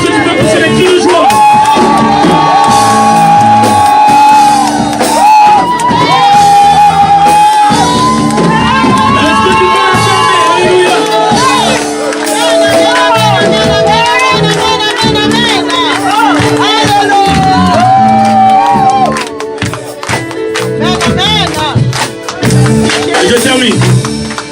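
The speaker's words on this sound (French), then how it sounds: "Est-ce que tu peux pousser les cris de joie?" A church congregation shouts and cheers with joy, a loud sustained mass of voices and whoops mixed with music-like tones, continuing for over twenty seconds.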